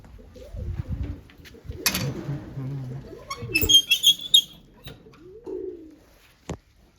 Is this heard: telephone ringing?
no